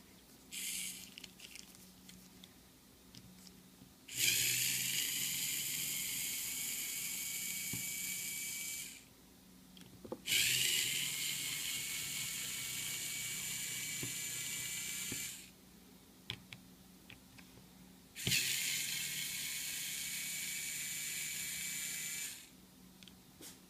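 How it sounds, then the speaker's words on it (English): A small electric screwdriver or drill whirs in three sustained bursts of about five seconds each, removing the four back screws of a Casio AE-1300WH watch, with quiet pauses between bursts. "let's start by removing the 4 screws in the back"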